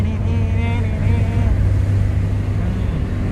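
A Renault Clio 1 Chipie accelerates hard, its engine droning loudly and low, with a brief voice over it, the motor holding a heavy, pushing roar.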